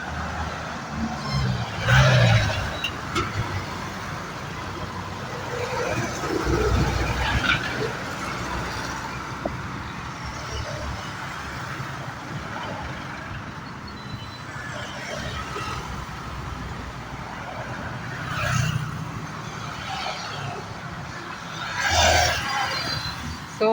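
A big truck rumbles past near the Davao River dike, a long heavy engine drone swelling and fading over about twenty seconds, with people talking over it.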